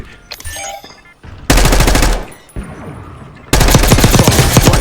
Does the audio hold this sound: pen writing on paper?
no